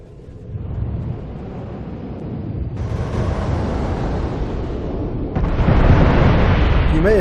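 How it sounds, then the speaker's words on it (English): A rapid barrage of Rattler missiles launched from a Saber in a space combat video game, rumbling and booming in continuous loud waves that build in intensity, with no talking. "I'm currently in a Saber, firing a whole buttload of Rattler missiles at these things"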